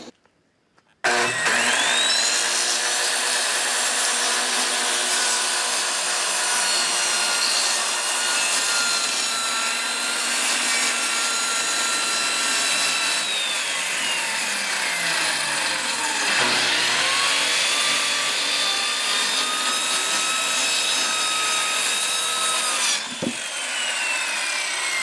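Continuous saw cutting through treated plywood to fit beneath a chicken coop, a steady close, loud grinding roar with shifting pitch that runs almost the full length, pausing briefly near the end.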